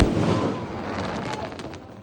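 On Diwali, a long string of firecrackers crackles and bangs nearby in a dense, continuous rattle of rapid pops that fades slightly over two seconds.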